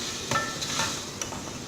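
Keema mince frying in a pan with green chillies and masala is stirred with a spoon, giving a steady soft sizzle broken by a few light scrapes and clinks.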